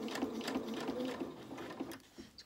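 A domestic sewing machine stitches a seam in T-shirt dress fabric, making short close bursts of rapid mechanical whirring and needle chatter that start and stop a few stitches at a time.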